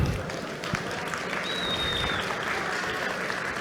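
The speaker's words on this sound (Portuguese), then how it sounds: "Palmas aí para a Ana." Steady applause from a conference audience welcoming Ana Belisário to the stage, a dense even wash of many hands clapping at moderate distance throughout, with no talking over it.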